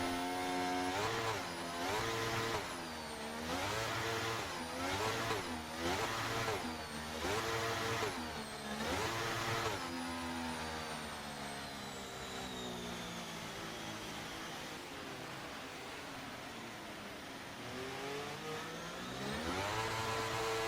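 Racing cars in a rain-soaked Miami race in a racing video game pull away together at a safety car restart, engines rising and pulsing loudly in rhythmic revving surges, then settling into a sustained, continuous high drone.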